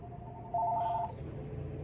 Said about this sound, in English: Gotta get the phone.